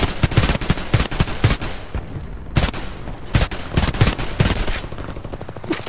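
An AK assault rifle fires in the HomeFront video game, loud, close bursts of rapid automatic shots separated by short pauses, with sharp repeated cracks throughout.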